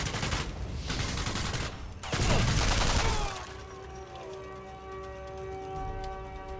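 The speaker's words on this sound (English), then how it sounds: "it's like a chain reaction of explosions" In a sniper shooter video game, rapid bursts of explosive cracks and booms fire off in a quick chain, then the blasts give way to a quieter stretch holding steady tonal hums.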